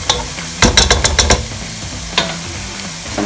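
Onions browning in a pan for yellow coconut rice, a soft steady sizzle broken by a quick burst of loud scraping stirs, then one more scrape later, with no voices.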